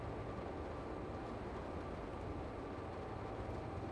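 An XDG605 intermodal freight train on the El Paso to San Diego run rolls past as a loud, steady rumble that holds without a break from start to end.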